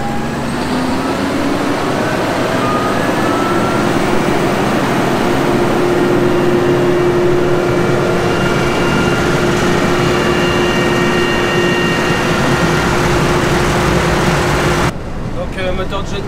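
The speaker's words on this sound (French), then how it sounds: "Donc, moteur de John Deere, 183 chevaux. 6 litres 8." A 183 hp, 6.8-litre John Deere tractor engine runs on a power bench, giving a loud, steady, close drone with a constant pitch. It holds for about fifteen seconds, then cuts off abruptly.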